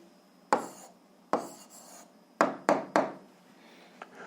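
Pen strokes on paper while an algebra answer is written out by hand: five short scratchy bursts, close and fairly loud, separated by quiet pauses.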